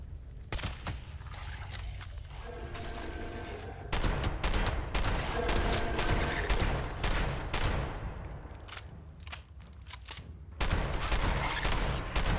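Shotgun blasts and combat from the video game Fallout 76, a dense run of loud overlapping shots and impacts that keeps going through the whole stretch with only a few short gaps.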